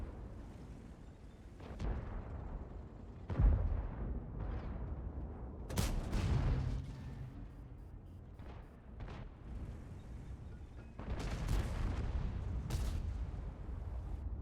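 Gunfire in a video game: heavy booming shots and explosive bursts land irregularly over a rumbling backdrop, with a quick cluster of several blasts near the end and no speech.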